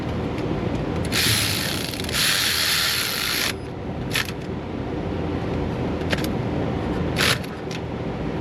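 A ratchet works a bolt on an A/C compressor manifold line, a sustained burst of clicking followed by a few short clicks, close and moderately loud over steady background noise.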